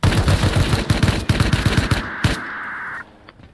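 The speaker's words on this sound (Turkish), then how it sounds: "Ha sen Thompson'la mı atış ediyorsun?" A Thompson submachine gun in the game Rust fires in rapid sustained bursts of close, loud automatic shots for about two seconds, followed by a single crack and a fading metallic ring, with no talking.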